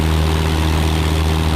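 A single-engine propeller airplane held on its brakes with the engine run up to full power for takeoff on a runway, a loud, steady, droning roar with a deep rumbling hum throughout.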